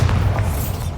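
Bombarda spell blast in the Hogwarts Legacy video game: a deep, sustained booming rumble filling the whole moment, loud and close, with no break.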